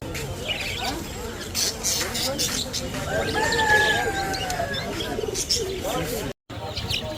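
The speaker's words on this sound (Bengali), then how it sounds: "লাভবার্ড।" Lovebirds chirping among other caged birds at a large bird market, busy overlapping chirps and calls under conversation and crowd babble, with a brief dropout near the end.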